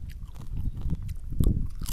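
Crunchy balado chips, spiced with freshly ground seasoning, are bitten and chewed close up, giving several crisp, crackling crunches with one louder bite near the end.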